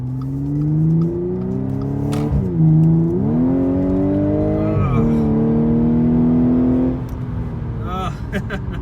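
An Audi S5 Coupe engine revs up hard and climbs in pitch, dropping briefly at each gear change before pulling again, loud and close as if from inside.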